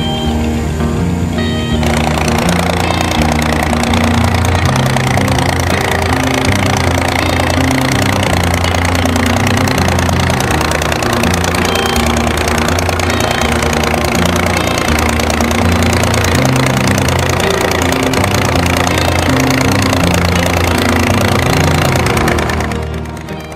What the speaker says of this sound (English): And here's a similar dragline working at the Cast and Vintage working event some years ago.